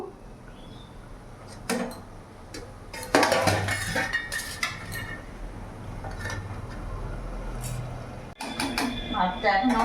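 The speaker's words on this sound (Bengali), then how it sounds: "আমি কিছুক্ষণের জন্য ঢাকা দিয়ে দেবো" A cooking pot of vegetables on a gas flame is covered with its metal lid, with clattering and clinking of metal cookware nearby while a person talks over it.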